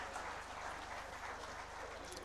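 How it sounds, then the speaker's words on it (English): Audience at an industry conference applauds a pair of young leaders, a steady even wash of clapping, fairly faint, over a low electrical hum. "these young leaders deserve a big round of applause"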